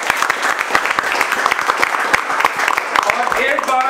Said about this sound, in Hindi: ये हार्ड वर्किंग के लिए टीम इनके लिए ताली बजाएगी बच्चे